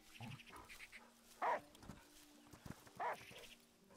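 Dog barks in the video game Last Day of June, two short loud barks about a second and a half apart over a steady game background with faint ambience.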